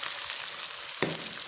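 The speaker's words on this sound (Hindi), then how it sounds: "सबसे पहले ऑयल डालेंगे। गरम हो चुका है। अब इसमें हम प्याज डाल देंगे" Onions hitting hot oil in a pan for baingan bharta, a steady soft hiss that swells into a sudden louder sizzle about a second in, with no talking.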